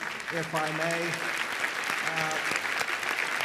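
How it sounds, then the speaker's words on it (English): Audience applauds at a 2017 university undergraduate graduation ceremony, a broad steady wash of clapping filling the whole moment while someone speaks over it at a podium. "That is worth an applause"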